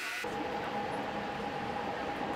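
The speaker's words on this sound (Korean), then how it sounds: "그들이 사랑하는 1호선은 100년이 넘은 지하철이라 그런지 소음은 우리 지하철보다 컸고" A century-old Budapest metro Line 1 subway train rumbles steadily, with a constant low roar and a sustained tonal whine running through the whole stretch.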